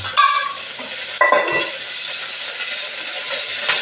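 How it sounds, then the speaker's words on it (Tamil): Okra frying in oil in a pan gives a steady broadband sizzle and hiss throughout, with a louder burst of crackling about a third of the way in, as though pieces are added or stirred. "வெண்டைக்காயை கொஞ்சம் எண்ணெயில் விட்டு வதக்க போகிறோம்"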